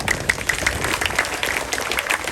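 An audience at a school gathering claps for the teachers, a steady, fairly loud wash of many hands applauding together, lasting the whole moment without voices.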